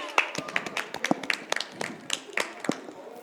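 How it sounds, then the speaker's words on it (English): Students clapping in a classroom, a small group producing sharp, distinct, irregular claps close by, not merging into a continuous roar, with faint voices underneath. "Please clap for him."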